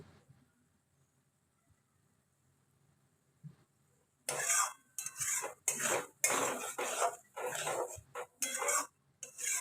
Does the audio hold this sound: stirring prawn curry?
yes